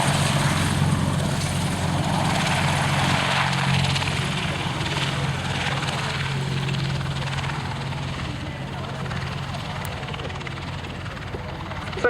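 Apache helicopter gaining speed along the ground for takeoff, a loud steady rotor and turbine roar with rhythmic blade thumping, close and sustained while a voice talks over it.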